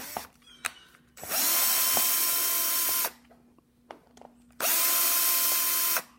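A cordless power drill backs screws out of a Shurflo pump, with two sustained whirring bursts, each lasting a couple of seconds, separated by quiet pauses and small clicks of handling.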